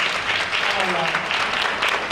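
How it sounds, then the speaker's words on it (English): Steady applause from a crowd, dense clapping filling the whole moment with a faint murmur of voices underneath. "So round of applause."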